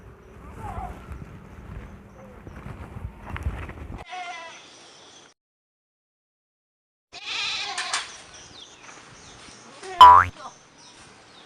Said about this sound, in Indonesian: Ini Cep, daun nangkanya kasih kambing